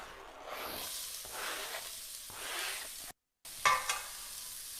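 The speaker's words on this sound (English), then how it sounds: "so I'm going to pop in my onions." Onions dropped into hot oil with toasted cumin seeds, a loud close sizzle that rises and falls in waves, cuts out briefly, then returns with a few sharp crackles and scraping stirs, no talk.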